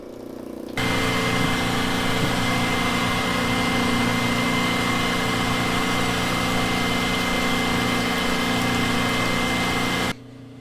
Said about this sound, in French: Là c'est le désalinisateur qu'on a allumé pour la première fois